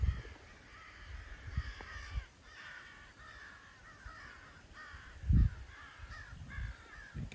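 Crows caw repeatedly over a cemetery, harsh calls in irregular bursts against an open outdoor background, with a few low thumps and wind-like rumbles.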